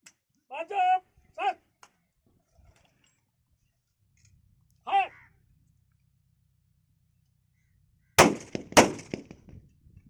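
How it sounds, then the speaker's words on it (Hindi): A rifle salute is fired at a soldier's funeral. Shouted commands ring out across an open, quiet space, then two sharp, loud gunshot cracks follow in quick succession near the end. "एक राउंड फिर फायर।"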